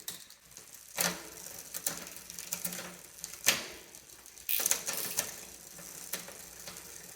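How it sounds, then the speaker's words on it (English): A touring bicycle's rear derailleur clicks through the gears, giving sharp ratcheting clicks every second or so over a soft whirring chain and freewheel, close and fairly quiet with no talk. "Man, that derailleur shifts so good in the back."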